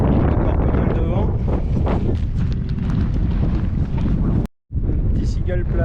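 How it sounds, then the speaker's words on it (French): Loud, strong wind on a Pyrenees mountain trail buffets the microphone with a constant low roar, cutting out briefly near the end before resuming. "Encore pas mal de vent."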